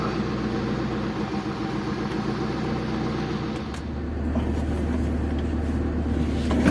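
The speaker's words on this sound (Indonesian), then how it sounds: "Ini mesin mobil sudah hidup, sudah menyala" A Daihatsu Zebra Espass car engine running at idle, a steady close hum and rumble that deepens slightly partway through, with no talk.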